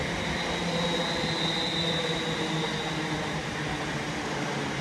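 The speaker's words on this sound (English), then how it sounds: "we've got another London Northwestern Railway train coming in, going to Crewe" A London Northwestern Railway train pulls in at Stafford on the West Coast Main Line, a steady rumble and hum with a faint high whine, fairly loud and constant with no voices.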